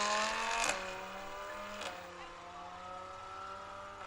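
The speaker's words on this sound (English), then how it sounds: "Man, those cars sound so cool." Road race cars at the Sandhills Open Road Challenge roar past one after another, loud steady engine drone with pitch shifting as each car goes by, a brief louder surge as one passes close.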